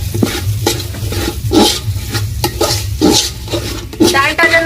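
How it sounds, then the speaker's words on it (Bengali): Dal fries in a pan for homemade Indian khichri, stirred continuously with a utensil: loud, close rhythmic scraping strokes over a constant sizzle. "ডালটা যেন না লাগে যায় তার জন্য আমি এখানে ডালটাকে ভালো করে ভাজতে থাকবো আর ভাজতে থাকবো।"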